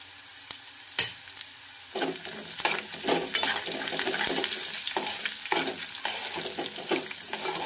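Garlic from a whole bulb fries in a pan for a spicy Maharashtrian eggplant bharta. There is a steady crackling sizzle with scraping stir strokes and a few sharp clacks, close and fairly loud, and no one speaks.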